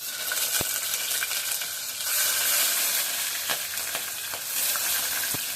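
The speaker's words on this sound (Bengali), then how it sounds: "তেলের ভিতরে মাছ ফোড়ন লঙ্কা তেজপাতা ছেড়ে দিলাম" Fish, chilli and bay leaf fry in hot oil with a loud, steady, close sizzle, broken by a few sharp pops and spoon taps.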